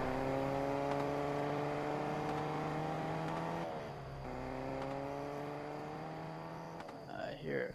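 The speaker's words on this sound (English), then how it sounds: "I hear a car." A car engine in the video game Fortnite drones steadily at moderate distance with a sustained harmonic hum whose pitch dips and then climbs again. The sound is fairly faint, with a brief clatter near the end.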